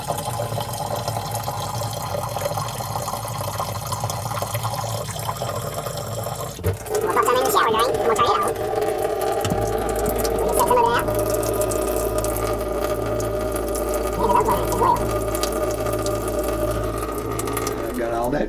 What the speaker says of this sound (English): I'm going to pump it into my toilet.